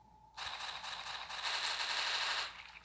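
A sustained burst of rapid automatic gunfire in a Roblox game, a dense rattling stream lasting about two seconds before cutting off, fairly faint and with no talking.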